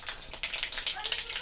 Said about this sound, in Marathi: जिरी मोहरी छान असे तडतडले